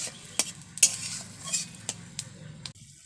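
A spoon stirs mango chutney made from raw and ripe mango boiling in water in a pan, with intermittent scrapes and clinks over a soft bubbling simmer.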